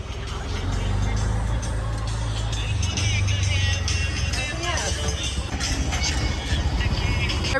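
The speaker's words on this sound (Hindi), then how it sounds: "इसकी वजह से इतना ज़्यादा ट्रैफिक हो रहा है" Busy street traffic of cars and rickshaws in Kurla, Nehru Nagar, a dense continuous rumble of engines with horn-like tones and passing vehicles, loud and close throughout.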